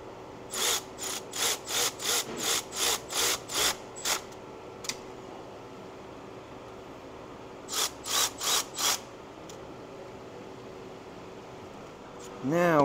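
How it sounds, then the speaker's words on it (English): Ratchet tightening thermostat housing bolts on a 2008 Jeep Liberty 3.7L engine: a run of about ten evenly paced clicks, then a pause and a shorter burst of four, close and crisp over a steady low background hum. "I am putting the thermostat housing back on. Tighten her up."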